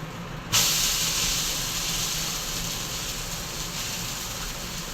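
A dosa on a hot pan, just flipped, gives off a sudden loud hiss that settles into a steady, close sizzle, with no talk.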